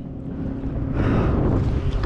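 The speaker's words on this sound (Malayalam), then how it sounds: "Speed boat Nokia guys." A speed boat runs on a dam lake, heard from the water as a rushing roar that swells after about a second, mixed with heavy wind buffeting on the microphone.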